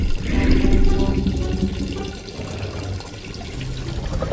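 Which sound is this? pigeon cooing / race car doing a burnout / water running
water running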